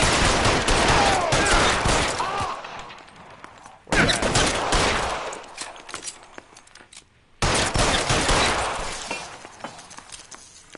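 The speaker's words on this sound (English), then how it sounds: "why he shooting at me like that?" Rapid gunfire in the L.A. Noire video game crackles in dense, loud volleys, with bursts of shots and shattering impacts in three long stretches separated by brief silent gaps.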